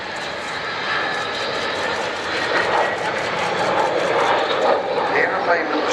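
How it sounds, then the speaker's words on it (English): An Avro Vulcan jet bomber roars overhead at an air show display with a loud, steady rumbling drone that swells slightly as it passes, with no speech. "So Vulcan coming back in towards us."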